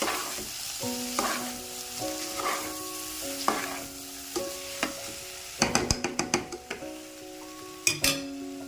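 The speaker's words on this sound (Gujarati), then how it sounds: "બધાને જ હવે મસાલાને સારી રીતે આપણે મિક્સ કરી દઈશું।" Potato sabzi with spices and a little sugar sizzles steadily in a pan, a metal spoon stirring and scraping in rhythmic strokes with several sharp clanks against the pan, close and alone.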